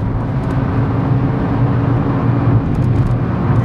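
A 2016 Seat Ibiza Cupra with a 1.8 TSI engine pulls hard in third gear, a loud, steady, close engine drone that fills the whole stretch.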